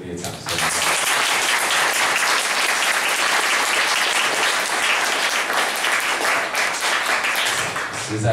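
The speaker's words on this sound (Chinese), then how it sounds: "要麻烦给他们热烈掌声。" Warm, sustained applause from a large audience, dense and continuous clapping that swells in after a brief quiet start and holds steady and loud to the end.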